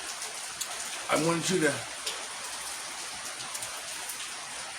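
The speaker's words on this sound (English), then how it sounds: "Right now it's raining." Steady rain falls with a soft, even hiss and scattered drips close by, continuing through the whole stretch while someone speaks briefly over it.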